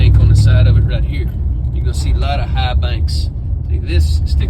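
A 1.5-foot extra-tall van rumbles along a worn country road lined with high banks near Jefferson, Texas, with a steady loud engine and tire drone under someone talking.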